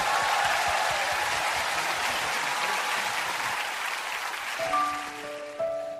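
A concert audience applauds before a ballad performance, dense loud clapping that fades slightly as piano notes begin near the end.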